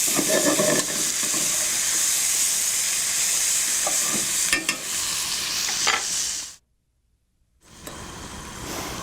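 Onions and pancetta sizzle steadily in a pan over low heat, a loud continuous frying hiss with occasional stirring scrapes, cutting out briefly near the end before resuming.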